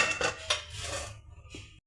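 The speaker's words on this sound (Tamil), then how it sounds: "இது வேறு பாத்திரத்தில் மாற்றிடலாம்" Roasted cinnamon sticks tipped from a pan into another vessel, a short clatter of scraping and rattling on metal that fades into a brief final tap.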